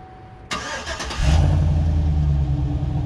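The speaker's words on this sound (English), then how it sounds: "Billy, start the truck up" A pickup truck engine cranks and catches at close range, settling into a loud, steady idle with a deep rumble, no talking over it.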